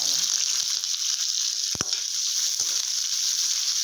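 Mustard seeds, fenugreek, cumin and curry leaves frying in hot oil for fish kuzhambu: a dense, even sizzling hiss throughout, broken by a couple of sharp pops or knocks.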